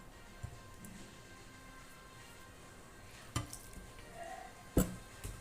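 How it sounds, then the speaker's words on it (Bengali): Water trickled bit by bit into rice flour for steamed bhapa pitha, giving faint, sparse drips and soft squishy mixing sounds against quiet room tone, with no talking. "এভাবে অল্প অল্প জল দিব বন্ধুরা"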